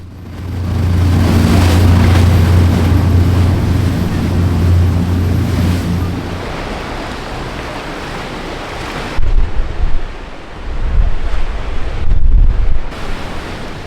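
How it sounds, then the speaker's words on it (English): A boat crosses the open Atlantic from west Ireland toward Great Skellig. Its steady engine and hull rumble mixes with rushing waves and heavy wind buffeting, easing after the first few seconds into choppier splashing surges. "when the boat finally left the harbor"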